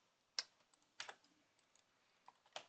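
Quick bursts of keys tapped on a computer keyboard, a few sharp clicks spread irregularly over a couple of seconds, near but quiet, with no speech.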